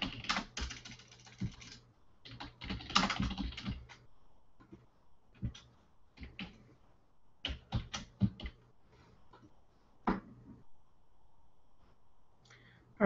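Fingers tap on a computer keyboard in quick irregular bursts, close and fairly soft, with short pauses between flurries of keystrokes and no talking.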